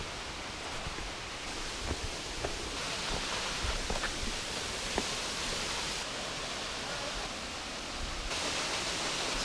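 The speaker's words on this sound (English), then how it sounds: "this is supposed to be an 81-foot tall waterfall" Waterfall in Shenandoah National Park, an 81-foot cascade heard as a steady rushing hiss from a viewpoint, with faint scattered footsteps or rustles.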